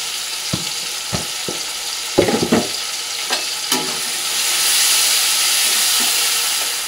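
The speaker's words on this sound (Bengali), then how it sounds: "এক চামচ জিরে বাটা, 1 চামচ আদা বাটা, একটুখানি ধনে বাটা দিয়ে দিলাম।" Cumin, ginger and coriander pastes fry in a pan, a soft steady sizzle broken by intermittent scraping stirs and clinks, the hiss swelling louder toward the end; no talking.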